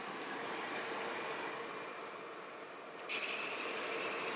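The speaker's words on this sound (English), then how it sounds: "AC is on. I'm gonna put on full blast." Air conditioning in a 2015 Honda Accord cabin hums softly at first, then jumps abruptly to a loud, steady, full-blast rush of air.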